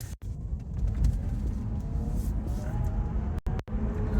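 A small car accelerating in sport mode, with a steady low engine rumble and road noise throughout and two brief dropouts near the end.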